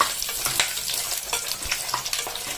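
Green chilies and dried red chilies fry in hot oil in a pan, giving a loud, steady, close sizzle with faint scraping stirs throughout and no talking.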